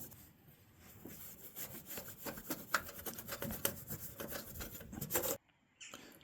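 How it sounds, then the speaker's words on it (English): A cloth rubs in quick, repeated strokes over the paintwork of a 1960 Ford Thunderbird, each swipe a close, soft scrubbing sound, until the rubbing stops abruptly near the end. "before I start putting it back, I'm just going to give a little bit of clean up around the paintwork here"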